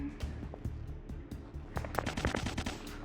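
Rapid automatic gunfire in the online shooter game Combat of Cybersphere, dense bursts of rattling shots that thicken toward the end, loud and continuous.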